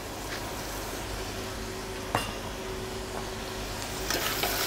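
Sauce in a pan sizzles steadily while a spoon stirs, with a few faint scrapes and clinks against the pan and no voices.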